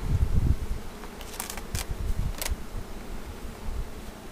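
Dense buzzing of many honeybees at an opened hive during honey collection, a steady drone with occasional louder passes and rustling close by.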